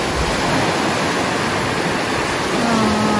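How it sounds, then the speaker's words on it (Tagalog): Ocean waves at Rehoboth Beach, Delaware, crash in a loud, steady wash of broadband surf that fills the scene without letup, with a faint tonal whine near the end. "The sound of the waves."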